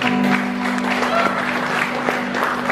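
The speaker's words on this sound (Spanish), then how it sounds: "Dale un fuerte aplauso al que vive y reina." Congregation applauding at a Spanish-language evangelical church service, a steady dense wash of clapping that holds throughout, with a sustained tone and voices mixed in beneath.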